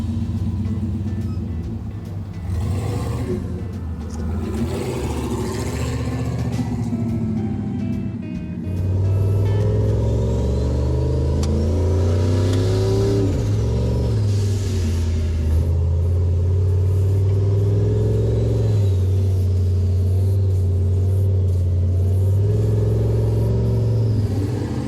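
A mini wrecker truck's engine turns over and settles into a steady, loud rumbling idle inside the cab, then rises into a few revs, with the deep drone continuing for most of the clip and little talk.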